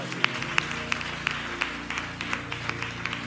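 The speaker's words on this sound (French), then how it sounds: "un bel applaudissement" A church congregation claps in scattered, steady beats over a low sustained musical drone, the claps sharp and fairly close but sparse rather than a full ovation.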